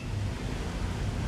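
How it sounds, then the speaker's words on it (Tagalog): Strong wind blows through a small backyard and roars across the microphone as a dense, low, steady rumble. It sounds close and continuous, with no voices. "Lakas ng hangin mga kakugi."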